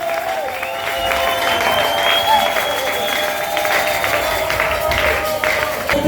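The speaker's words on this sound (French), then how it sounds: "Est-ce que vous applaudissez pour votre gloire?" Church congregation applauding during a Sunday worship service, steady broadband clapping sustained throughout with a tonal organ or keyboard line running underneath.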